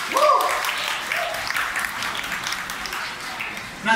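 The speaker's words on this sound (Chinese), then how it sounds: "掌声鼓励。" An audience applauds at a weight-loss competition event, steady crowd clapping filling the whole stretch while a voice carries on over it.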